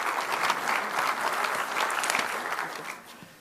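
An audience at a healthy-lifestyle keynote gives a warm, dense round of applause that holds steady before tapering slightly at the end, with no voices over it.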